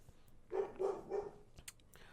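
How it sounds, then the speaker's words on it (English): A dog lets out three quick barks in a row, somewhat distant and faint, followed by a few small clicks and rustles. "whatever the dog is barking at"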